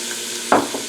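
Onion, garlic and celery sizzle softly in oil and butter, a low steady frying hiss broken halfway by a sharp stir or scrape of the pan.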